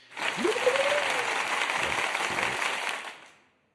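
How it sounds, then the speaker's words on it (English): Applause from a group fills the space steadily, dense and fairly soft, and fades out toward the end. "Let's give you an applause for that."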